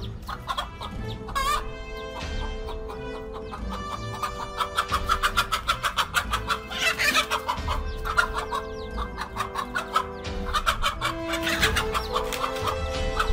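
A mother hen clucks repeatedly while fighting a king cobra to protect her chicks; the rapid, agitated clucks pulse in quick bursts over steady background music.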